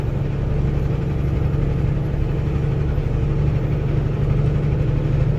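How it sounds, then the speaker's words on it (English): A new Peterbilt 579 truck with a Cummins engine and 12-speed automatic cruising eastbound on a freeway, its steady, loud low-pitched drone and road rumble continuous from start to finish. "I'm on a new Peterbilt, 579."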